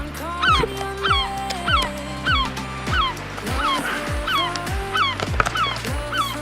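Repeated harsh, rising-falling seagull cries, loud and close, calling in a steady series of about eight yelps over constant droning drone rotor noise.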